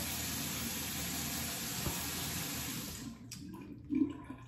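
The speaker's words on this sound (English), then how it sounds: "And then I'm going to get in the shower." Shower water runs in a steady, close hiss that stops abruptly after about three seconds, followed by a soft thump and faint rustling.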